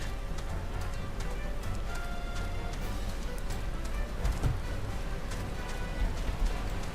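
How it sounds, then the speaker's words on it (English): Rain falls in the video game Final Fantasy XIV, a steady hiss of drops with faint scattered taps and a brief louder knock near the end, with no voices over it. "Let's get the hell out of the rain."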